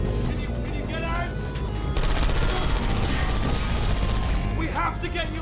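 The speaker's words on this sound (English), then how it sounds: "I heard gunfire!" Rapid gunfire rattles in the Portal 2 video game, a loud continuous volley of sharp shots mixed with crashes, with voices speaking over it.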